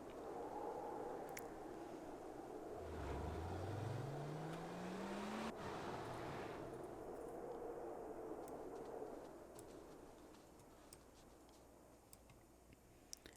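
A car drives in The Sims, its engine rising in pitch as it accelerates away, then fading into soft game ambience with faint ticks, and no one speaks.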